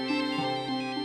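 An incoming-call phone ringtone plays as a short, bright electronic melody with steady repeating tones, loud and alone.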